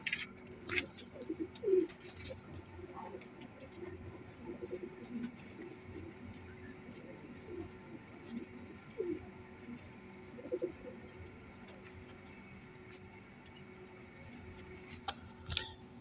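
Soft, low Billa pigeon coos repeat now and then against a steady background hum, with faint chirps and a few brief noises mixed in.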